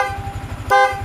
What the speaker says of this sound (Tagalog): loud horn yan